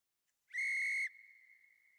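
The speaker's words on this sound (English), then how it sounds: "Oh, whistles. We got whistles." A referee's whistle during an NFL game between the Arizona Cardinals and Los Angeles Rams gives one loud, sharp blast of about half a second, then trails into a fainter steady tone, with no talking over it.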